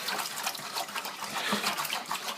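A spoon stirs bentonite into wine kit must in a bucket, giving a steady wet swishing and sloshing of liquid that continues close and moderately loud throughout, with no talking.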